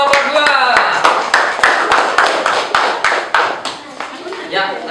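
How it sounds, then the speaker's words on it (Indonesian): A group claps hands together for a classmate team in a classroom, a fairly close run of sharp, uneven claps with a quick rhythm that fades slightly toward the end, with voices audible underneath. "tepuk tangan untuk kelompok 2."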